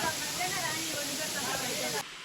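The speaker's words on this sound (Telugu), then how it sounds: "ఇందాక నీళ్ళు జలపాతం నీళ్లు పడుతున్నాయి కదా" Waterfall water pours at Mallem Gundam in the Nallamala forest, a broad, steady rushing hiss that stays constant before cutting off abruptly near the end.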